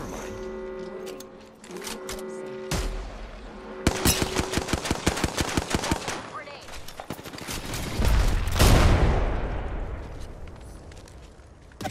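Gunfire in the video game Apex Legends, loud rapid bursts of automatic fire in steady rhythmic volleys, then heavy impacts and a booming blast, with game voice lines in the mix.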